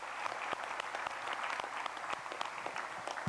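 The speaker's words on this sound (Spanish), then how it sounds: "Así es que dense ustedes un buen aplauso." A church congregation at a Spanish-language Wednesday evening service applauds, a steady crowd of many overlapping claps at moderate distance that continues without a break.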